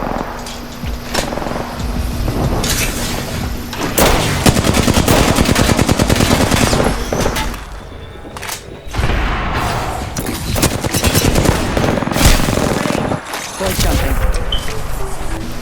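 Hip-fire gunfire in Apex Legends, with rapid bursts of automatic shots and bangs that stay loud and dense through most of the span, broken by brief gaps, with game sound effects and speech mixed in.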